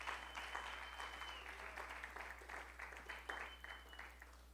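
Congregation at an evening church service clapping together, a steady, moderately distant wash of applause that holds for several seconds over low hum.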